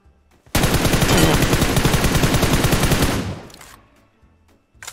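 Sustained automatic gunfire in a battle royale shooter game, a loud, dense burst of rapid shots lasting nearly three seconds before cutting off and fading into quiet.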